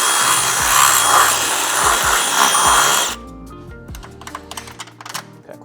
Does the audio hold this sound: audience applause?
no